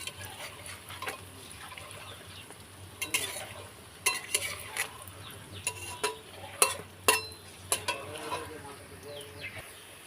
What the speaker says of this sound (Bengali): এক পিঠ করে আমি উল্টে দিচ্ছি। আর এটা গ্যাস কমিয়ে ভাজতে হবে